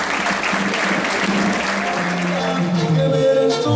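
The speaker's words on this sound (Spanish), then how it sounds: "ese aplauso bonito que nos funcionó." Guests at a quinceañera reception burst into loud, close applause that runs steadily throughout, with a speaking voice entering faintly toward the end.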